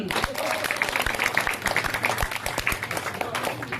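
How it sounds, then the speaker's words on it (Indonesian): Audience applause at a Balinese comedy stage show, scattered hand claps under a noisy crowd with voices and music running throughout. "Tepuk tangan mun."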